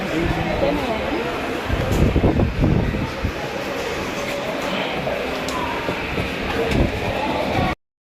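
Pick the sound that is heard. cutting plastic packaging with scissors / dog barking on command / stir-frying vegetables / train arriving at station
train arriving at station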